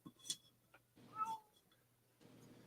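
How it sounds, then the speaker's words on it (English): A Maine Coon, or part Maine Coon, cat gives a short, faint meow indoors, with a few quieter sounds around it. "I thought I heard meowing."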